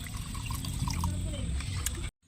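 Water is poured into a tamarind curry of snakehead (korramenu) fish cooking on a stove, making a steady, close trickling splash that runs about two seconds and then stops abruptly.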